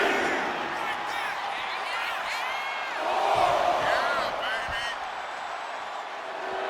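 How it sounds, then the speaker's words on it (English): Arena crowd in WWE 2K25 cheering and roaring steadily through a SummerSlam wrestling match, swelling louder midway, with commentary voices over it. "And the Fiend looking for support from the crowd"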